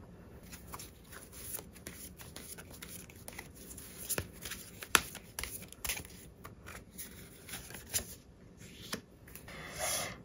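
Tarot cards are shuffled by hand in soft, irregular riffles and slaps, close but quiet, with a few sharper card snaps scattered through.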